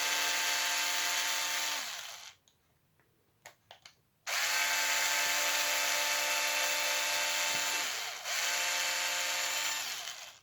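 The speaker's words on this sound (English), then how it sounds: "let's go back to the electric screwdriver" An electric screwdriver removing screws from a Traxxas X-Maxx rear differential: a loud, steady high motor whine running for a couple of seconds, a short pause with small clicks, then two longer whirring bursts, close up.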